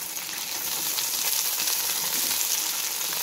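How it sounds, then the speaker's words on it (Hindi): Carrots, capsicum and onion sautéing in a pan give a steady, close sizzle and crackle of frying vegetables, constant throughout with no talk. "इनको सिर्फ 2 मिनट के लिए हमने सौते करना है, ज़्यादा नहीं पकाना"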